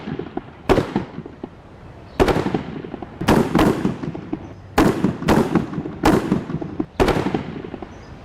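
Series of sharp, booming artillery blasts fired at a target, about seven or eight heavy reports at irregular intervals, each with a decaying rumble, loud and alone without speech.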